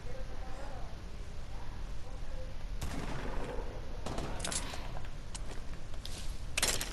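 Pistol fire in the video game Fortnite comes as a few sharp bursts over steady game background and talk, with a cluster of shots midway and another near the end.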